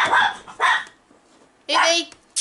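A dog barks in short bursts, two quick ones close together, then a pause and a longer bark near the end, loud and close against a quiet room.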